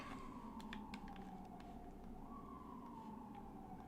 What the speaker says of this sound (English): Ooh, you hear that ambulance?